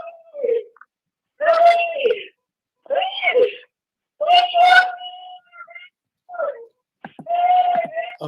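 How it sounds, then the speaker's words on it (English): A woman cries and wails on a voicemail recording, with broken sobbing moans that come in short bursts separated by pauses. The sound is thin and phone-filtered and is heard without other voices. "it sounds like someone's crying for help or something"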